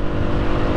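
A Husqvarna TE310R dirt bike, geared low for woods riding, ridden in sixth gear at around 40 to 45 mph: a loud, steady engine drone mixed with wind roar, close up and continuous.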